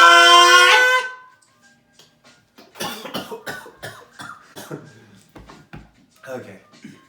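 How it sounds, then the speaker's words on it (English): A short, loud cough bursts out at the start, followed by quieter scattered voices and breathy talk close to the microphone. "I keep choking on my own cough."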